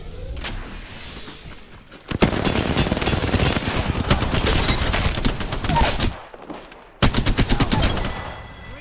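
Automatic weapon fire in Apex Legends, fast rattling bursts that run for several seconds, stop briefly, then open up again, loud and close with other game effects mixed in.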